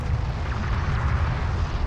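Combat explosions rumble through a battle in the desert strategy game Homeworld: Deserts of Kharak, a dense, continuous low roar of blasts and booms with no voices over it.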